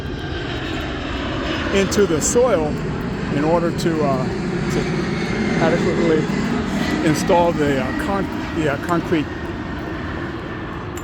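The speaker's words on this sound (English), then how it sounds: "so you're going to hear a jet probably go by every 20 seconds or every minute or so" A jet roars overhead near Los Angeles International Airport, a loud, steady, broad rumble lasting the whole stretch, while someone talks continuously over it outdoors on a residential street.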